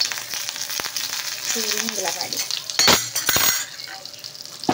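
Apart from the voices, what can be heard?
tempering with garlic crackling and frying in oil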